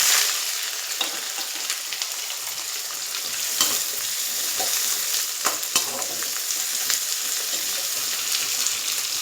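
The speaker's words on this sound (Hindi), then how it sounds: "प्याज डाल दूंगी।" Chopped onions fry and sizzle steadily in a pan for a home-cooked macaroni dish, with occasional scraping taps as they are stirred. The hissing is close and continuous.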